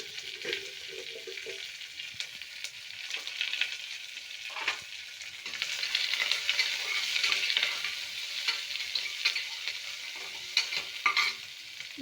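Vadiyam, mustard seeds, garlic, curry leaves and onion frying in hot oil for a tempering, a continuous close crackling sizzle with occasional stirring scrapes and pops, no voices.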